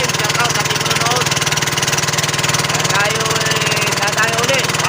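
A boat engine runs steadily out on the water, its loud, even, rhythmic chugging continuing without pause throughout, close to the listener.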